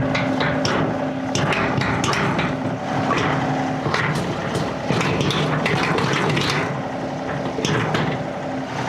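A part on farm equipment is hammered down before fertilizer spreading, making repeated loud, close metallic blows in a quick irregular rhythm over a steady mechanical background.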